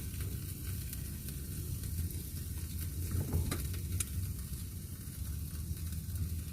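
Pizza cooks in a pan inside a van, giving a continuous close, even sizzle with faint crackles and a few brief clicks, and no one talking.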